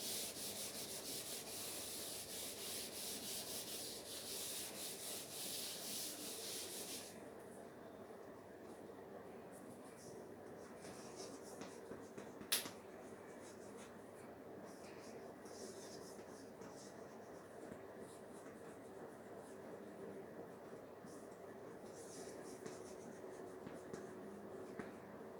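Faint scratchy strokes as points are written on a board during an economics lesson, a soft continuous rubbing that runs at a low level with a brief sharp tap partway through.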